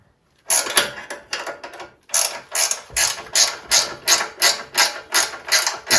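A ratchet wrench loosens a bolt on a 1960 Bolens Ride-a-matic during a strip-down. Sharp bursts of clicking give way to a steady, evenly paced series of ratcheting strokes, close and clear with no talk.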